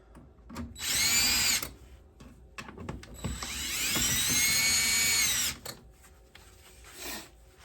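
Power tool loosening screws on a Fasco A984 draft inducer blower motor, two loud whirring bursts, a short one then a longer sustained one, with clicks and handling noise between.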